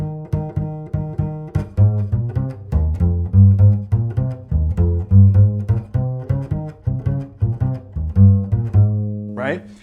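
A double bass passage, heard as a loud, prominent plucked bass line of rhythmic, walking notes with band accompaniment, playing alone without talk.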